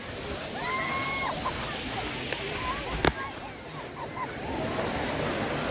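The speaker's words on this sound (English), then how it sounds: "these waves are horrendous" Ocean surf washing and breaking along a beach at Cabo, a steady broadband roar with a voice talking faintly over it and a brief sharp click near the middle.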